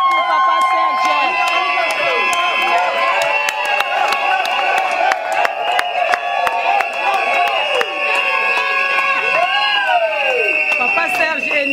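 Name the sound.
crowd cheering and applauding at a civil wedding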